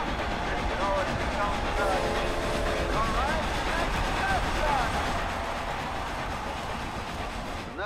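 A train runs alongside a race in Forza Horizon 2, a continuous rumbling rail noise with a drawn-out horn-like tone, while voices talk over it.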